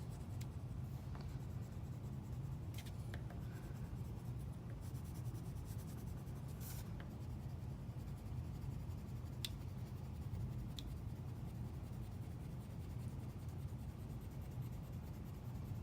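Pencil shading on paper, a steady close scratching that continues without pause, with a few faint clicks along the way.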